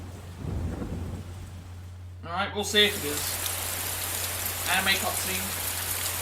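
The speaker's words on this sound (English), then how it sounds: "You can hear it raining outside." Steady rain falls at night in a game scene from Persona 4 Golden, with a soft continuous wash and low rumble under a person talking, then brighter cutscene sounds and dialogue over the rainfall.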